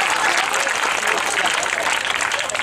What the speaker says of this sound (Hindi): एक बार जोरदार तालियां आप